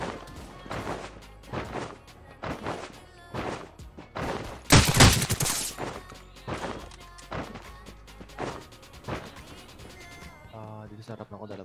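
Gunfire in the mobile battle royale Rules of Survival: sharp, loud shots in quick bursts with one heavy blast, heard over a player talking throughout.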